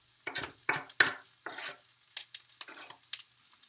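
Onions hitting a hot pan for pork and poblano tacos, a series of bursty sizzling hisses and stirring scrapes in separate surges, close and fairly loud, with quiet gaps between.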